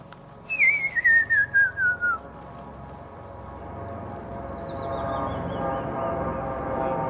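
A person whistles a clear, sliding tone that drops in pitch, followed later by a fainter, higher whistle gliding downward.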